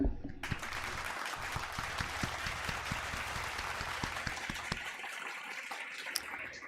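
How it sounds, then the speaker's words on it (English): A small studio audience claps for the in-house band, a faint, thin patter of hands with a few sharper individual claps standing out, steady for several seconds before thinning toward the end. "Can we give them a round of applause real quick?"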